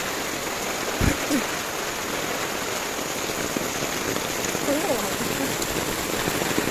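Heavy rain pouring down in a dense, steady hiss, with a brief thump near the start and faint vocal sounds mixed into the downpour.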